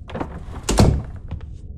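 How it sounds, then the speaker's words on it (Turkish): A single dull thunk of a door shutting in the video game Dead Signal, a short low-heavy impact near the middle, heard over faint background game sound. "Tamam, kapat kapıyı bir de."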